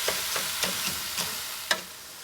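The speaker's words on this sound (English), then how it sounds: "We're just going to let that cook down and soften a little bit." Cauliflower rice, mushrooms, zucchini and onions softening in a pan, a steady broad sizzle broken by a few soft stirring scrapes and one sharper clatter near the end, with no voices.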